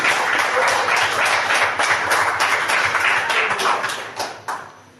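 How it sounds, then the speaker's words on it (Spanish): A church congregation applauding during a worship service, dense steady clapping close at hand, tapering off toward the end. "que sea fuerte ese aplauso para el Señor."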